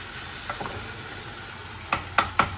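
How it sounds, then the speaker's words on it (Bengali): Snake gourd and potato frying in a pan: a soft, steady sizzle with a few light stirring scrapes early on and three sharper clacks of the utensil near the end, close and without talk. "এখানে শুধু একটু চিচিঙ্গা ভাজি করতেছি। চিচিঙ্গাগুলো কাটা ছিল, চিচিঙ্গা দিয়ে আলু দিয়ে"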